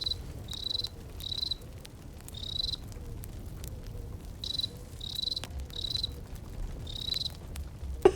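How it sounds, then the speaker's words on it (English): A cricket sound effect chirps in regular rhythmic bursts over a soft, low background hum, moderately loud and steady throughout. "We're gonna do the cricket sounds"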